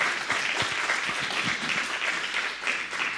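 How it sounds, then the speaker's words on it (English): A conference audience breaks into steady, dense applause that fills the room evenly from start to finish, with no voices rising above the clapping. "Let's give her a big round of applause."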